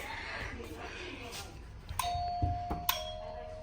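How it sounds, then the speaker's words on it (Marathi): A doorbell at an apartment building chimes twice, two bright ding tones with a lingering ring, over quiet background noise and faint movement. "तर बेल वाजवलेली आहे"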